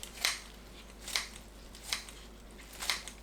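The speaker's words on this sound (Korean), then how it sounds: "불린 미역을 먹기 좋은 크기로 잘라주세요." Four crisp, evenly spaced snips of kitchen scissors cutting soaked seaweed into bite-size pieces, close and clear against a quiet background.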